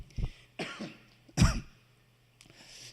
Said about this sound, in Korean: 이 코로나 이후에 자꾸 잔기침이 있네요